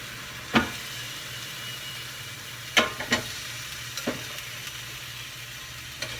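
Raw potato wedges are dropped into a preheated air fryer basket: a handful of sharp, close knocks and clatters spaced over several seconds against a faint steady hum, with no talking.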